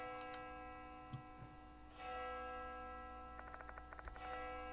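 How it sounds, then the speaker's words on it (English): A steady tonal ringing with rhythmic, tick-like pulses, synthetic and sustained, like a game bell chiming over a low hum, in the horror game Death Mark 2. "That bell again."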